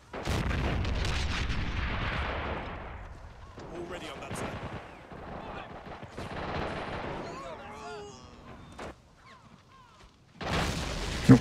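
Mortar rounds in Call of Duty: World at War fire and explode in heavy, rumbling booms amid scattered gunfire, with players talking over the blasts.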